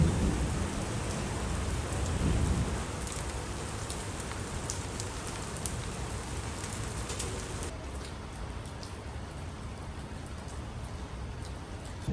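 Heavy rain pours steadily outdoors in Rome, a dense continuous hiss with a slightly louder surge early on that eases off toward the end, with no voices.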